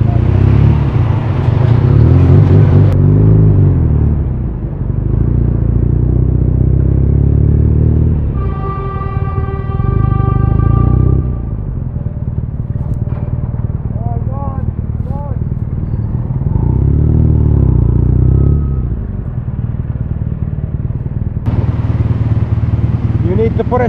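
A BMW S1000 sport motorcycle engine runs loudly up close, idling with a deep rumble and rising in a few revs, a steady mechanical drone throughout.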